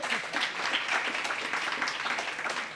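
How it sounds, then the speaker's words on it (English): An audience at a watch collectors' forum gives a full round of applause, with steady clapping from many hands at moderate volume throughout. "Let's please give them both a round of applause"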